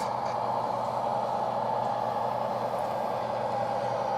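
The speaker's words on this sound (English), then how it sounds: "My train should be coming out of the tunnel here any moment now." A model train emerging from a tunnel rumbles steadily at close range, a continuous mechanical roar with a bright hum, holding even loudness throughout with no voices.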